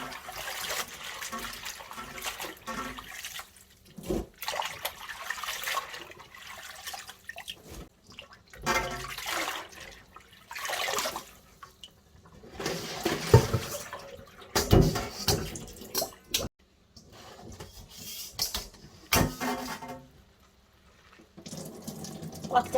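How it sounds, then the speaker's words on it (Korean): Sea fennel greens are rinsed in cold water under a running tap. The splashing and pouring come close in irregular bursts, with short pauses as the greens are swished and lifted. "찬물에 2번 정도 헹궈 줄 거예요."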